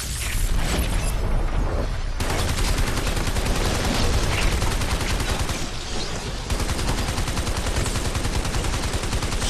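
Dense, continuous gunfire with heavy shotgun blasts in the Army of Two: The Devil's Cartel video game, loud and relentless with overlapping bursts and booms throughout.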